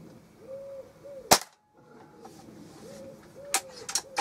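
A single sharp air rifle shot cracks out close by during outdoor target shooting, followed by a second crack a couple of seconds later, with birds cooing softly in the background.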